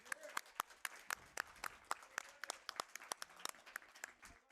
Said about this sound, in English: You can all give yourselves a round of applause.